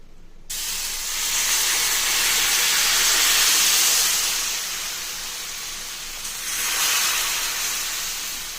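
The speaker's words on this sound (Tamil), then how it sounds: "இப்போ நான் ஊற்றி காமிக்கிறேன் தோசையை" Thin rava dosa batter poured onto a hot pan bursts into a loud sizzling hiss, swells, eases off, then flares again as more batter spreads, with no talking.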